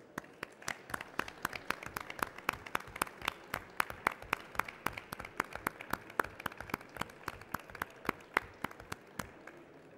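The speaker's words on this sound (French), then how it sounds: "Voilà, et on vous applaudit." An audience at a 2011 environmental innovation award ceremony gives moderate applause, with distinct individual claps in a steady patter at modest volume and no voices over it.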